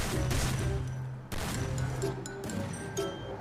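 Rapid bursts of gunfire in the mobile shooter Free Fire, played while testing sensitivity settings for headshots, sound steady and fairly close over a low game hum, with a brief pause midway.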